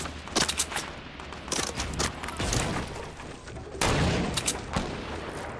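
Repeated gunshots ring out in a shooter video game, sharp cracks and bursts spread across the clip, some close and loud, with a heavy thumping blast near the middle.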